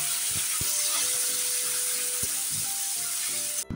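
Tomato and ginger with bay leaf, dried chilli, whole garam masala, sesame and mustard seeds frying in hot oil give a steady, loud sizzle throughout, with a few brief clinks of utensils.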